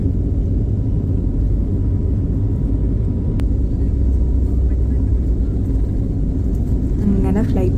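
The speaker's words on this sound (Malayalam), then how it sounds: "ഇപ്പോൾ ഫ്ലൈറ്റ് റൺവേയിലോട്ടേക്ക് എടുക്കുകയാണ്" An airplane taxis onto the runway at Trivandrum airport with a loud, steady low rumble that persists throughout. A voice briefly speaks near the end.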